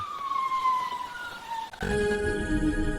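Ambulance siren, a wailing tone gliding down steadily, then after a sharp break a louder, denser siren blast with strong overtones, close and alone without talk.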